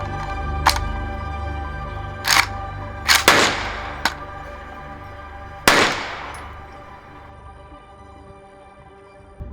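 A JTS M12 AK semi-automatic 12-gauge shotgun fires at a range: about five sharp, loud reports at irregular intervals, two of them in quick succession, each with a short ringing decay.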